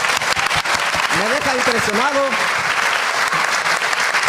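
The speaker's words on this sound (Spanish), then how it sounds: "denle un fuerte aplauso a Luis Toro" A church congregation applauds for Luis Toro, steady dense clapping running throughout while someone speaks briefly over it in the middle.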